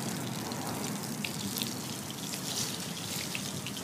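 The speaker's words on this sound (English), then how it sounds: "We're just going to hose this off now, about a minute or so later." A garden hose sprays water across a concrete surface freshly treated with NCH BREX chemical cleaner, giving a steady, close, continuous hiss and splatter with no break.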